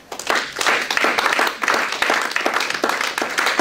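A church congregation applauding in worship of God, dense and loud sustained clapping from many hands close by, with a few louder pulses.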